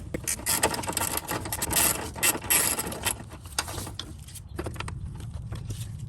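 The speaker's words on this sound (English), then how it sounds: "I'm using a flex head gear wrench, box end wrench to break that free." A flex head gear wrench ratchets on a 10mm flange nut on a Toyota Tundra 5.7L V8, giving a series of close, crisp clicking bursts with short pauses between strokes.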